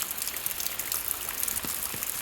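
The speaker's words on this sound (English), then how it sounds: "do all that stuff that you can do when it's actually raining" Steady rain falls on a food forest on a rainy morning, a dense close hiss of drops with occasional distinct splashes and no voices.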